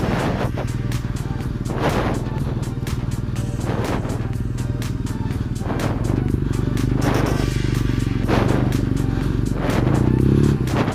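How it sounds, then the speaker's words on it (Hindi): A motorbike ridden through deep slush on an adventure ride to Chitkul, tyres slipping off the track, with a steady engine rumble and repeated clattering scrapes and splashes throughout, loud and close. "ये जो बाइक ट्रैक से उतर जाती है और स्लिप करती है, क्योंकि स्लश बहुत है"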